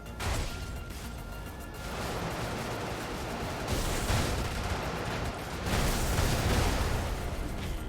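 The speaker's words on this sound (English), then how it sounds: "Finally, a well-timed explosion." Explosions and heavy weapon fire in the mech combat game Brigador form a continuous rumbling barrage of blasts and crashes, with a few louder bursts swelling midway and near the end.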